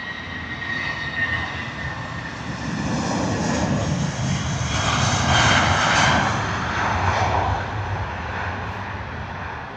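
Finnair Airbus A350 jet taxiing at Heathrow, a steady engine roar that swells as the aircraft draws nearer, then holds loud and even, no voices.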